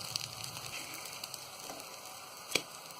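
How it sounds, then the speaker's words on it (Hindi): Dal kebabs fry in a pan with a faint, steady sizzle and small crackles, plus one sharp tap near the end. "तो यहाँ ये कबाब थोड़े से फ्राई होने लगे हैं"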